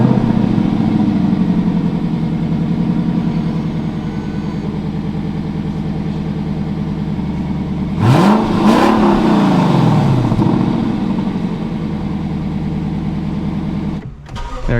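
Lexus LC500 engine running close by, a loud steady low rumble that swells into a sharp rev around the middle before settling back to a steady drone.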